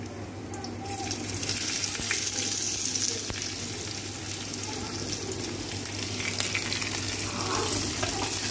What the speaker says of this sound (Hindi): और तलिए प्याज, देखिए कैसे कलर इसका चेंज हुआ है.